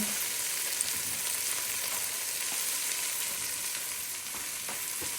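Carrots and onion sautéing in a pot for potato leek soup give a steady, even sizzle that runs throughout, with a few faint stirring clicks and no talking.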